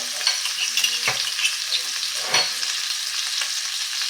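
Crushed chilli, garlic and ginger paste sauteed in hot oil, a continuous close sizzle broken by a couple of scraping stirs.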